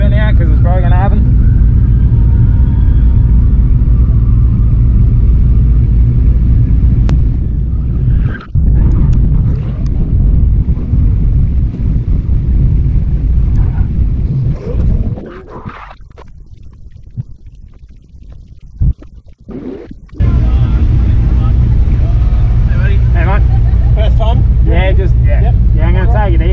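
A turbo V8 Dodge pickup truck drifting on a course, its engine roaring loud and close with wind buffeting, a brief lull mid-way, then revving hard again, while people talk over it.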